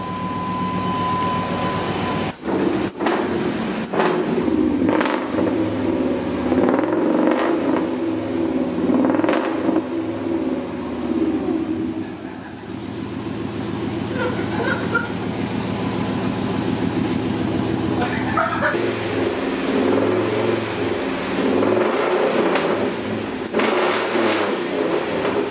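A K1500 truck engine idles rough with new injectors fitted, giving a steady low rumble with an uneven throb that runs loud and close throughout, with brief clanks and no speech.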